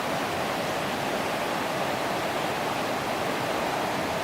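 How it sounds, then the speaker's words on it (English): A swiftly running river rushes in a dense, steady roar of water, loud and unbroken, with no voices present. "So relaxing to spend the day beside this swiftly running river, the nice music of the water."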